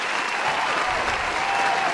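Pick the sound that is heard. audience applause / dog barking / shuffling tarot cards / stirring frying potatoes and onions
audience applause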